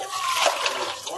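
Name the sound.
water poured into a pot of spiced food for Suhoor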